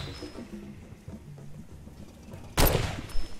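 A single loud sniper rifle shot rings out in Far Cry 2, a sharp burst that cuts through quieter in-game ambience and low rumbling background sound.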